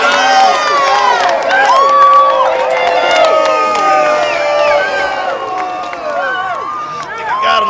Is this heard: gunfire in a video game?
no